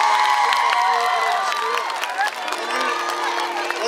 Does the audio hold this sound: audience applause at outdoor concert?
yes